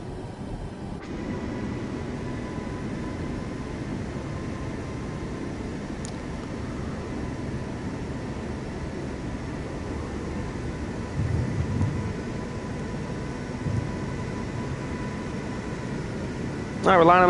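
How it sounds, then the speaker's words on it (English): Airliner in Microsoft Flight Simulator lining up on runway 17 left, a steady low engine and cabin rumble holding at idle throughout, moderately loud and unchanging. "we're lining up here on runway 17 left for takeoff"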